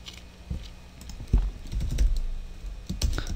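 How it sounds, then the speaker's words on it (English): Fingers tapping on a computer keyboard in short, uneven bursts of keystrokes, close and fairly quiet, with a few louder clacks scattered through the run. "And I'll just type that so that we can see if it's working."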